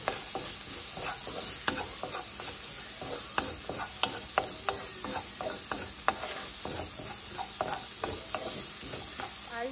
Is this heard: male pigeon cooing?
no